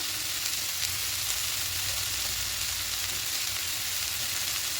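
Red amaranth leaves frying in a pan, a steady, even sizzle and hiss that holds throughout with no talk.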